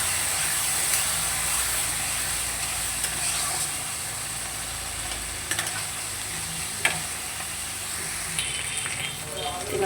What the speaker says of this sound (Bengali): ব্যাস, এবার সব কিছু খুব ভালো করে কষিয়ে নেব।